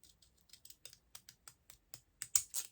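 Scissors snip through a paper cupcake liner in a run of about a dozen short, crisp cuts, quiet at first and growing louder toward the end, close and alone.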